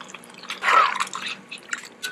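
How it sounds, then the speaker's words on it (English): Water being poured into a pot of curry goat with potatoes, a soft splashing and dripping pour lasting about two seconds, fairly close and with no talk over it. "I'm going to add water, but not all the way to cover, maybe halfway"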